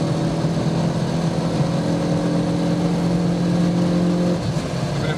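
Mazda MX-5 NC roadster with a bigger-displacement engine, cruising in sixth gear at around 170–180 km/h: a steady, loud, droning engine tone runs continuously and holds at an even pitch with strong wind and road roar, easing slightly near the end.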